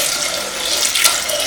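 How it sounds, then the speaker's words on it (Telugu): Tap water runs in a strong, steady stream into a vessel in a home kitchen while dal is being prepared. The flow is close and loud throughout, with a slight surge near the end. "ఇందులో వాటర్ తీసుకుంటున్నాను"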